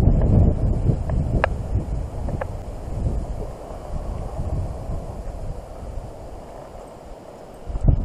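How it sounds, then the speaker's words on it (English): Strong wind buffets the microphone in low rumbling gusts at a creek while carp fishing, with a few faint clicks and rustles, growing louder again at the end. "It's also very windy."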